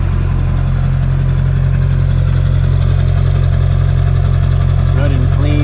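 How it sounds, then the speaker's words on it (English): An LB7 diesel truck engine idles steadily at the exhaust outlet, a loud, even low drone running throughout with no break. "Just want to show you the exhaust here real quick."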